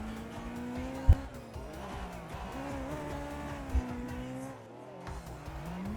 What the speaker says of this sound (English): S2K coming in for the drift line. Comes in faster on the entry